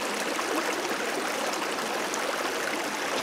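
Cedar Creek flows steadily outdoors, a close, continuous broadband rush of running water with no voices.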